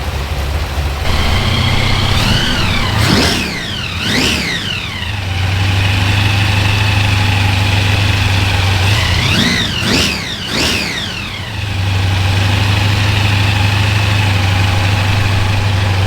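Small block Chevy engine fitted with a 671 blower, loud close idle with a steady low drone, broken by two pairs of quick throttle blips that rise and fall before settling back.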